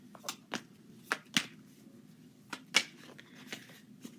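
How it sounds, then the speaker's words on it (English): Tarot cards are shuffled in a quiet room, giving a series of soft, separate riffling and slapping bursts at an irregular pace, with a faint background hum. "Just trying to shuffle it really good."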